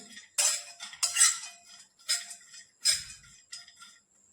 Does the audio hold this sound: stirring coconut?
yes